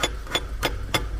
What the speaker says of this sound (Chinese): 就拿这个铁棍儿从这儿敲一下启动机，先试一下。